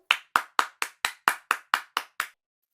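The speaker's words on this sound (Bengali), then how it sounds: "চলো আমরা আবার এই জন্য হাততালি দেই।" Children clap their hands in a lesson on Bengali consonants: ten sharp, evenly spaced claps close by, each snapping out cleanly, then silence, with no voices over them.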